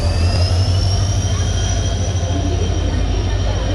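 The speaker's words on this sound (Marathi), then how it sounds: "आमची ट्रेन आता आलेली आहे." A passenger train pulls into a railway station on the way to Hampi, a loud, steady rumble of wheels on rails with a drawn-out high metallic squeal running over it, close and continuous.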